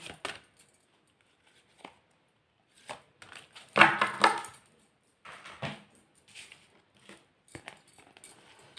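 Tarot cards are shuffled by hand in short, uneven bursts of riffling and tapping, with one fuller shuffle in the middle and quiet gaps between.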